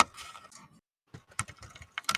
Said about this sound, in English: The sound of your clicking is louder than you are, Zanik.